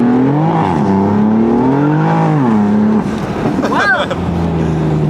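A BMW M4 sports car accelerates hard on a scenic Florida road. The engine is loud and close, rising through the revs with a shift in pitch midway, and a brief squealing burst near the end. A voice is faintly present.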